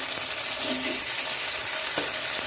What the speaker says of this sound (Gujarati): હવે આપણે આને ટામેટા ઓગળી ના જાય ત્યાં સુધીને આપણે સરસ મીડિયમ ગેસ પર શેકી લઈએ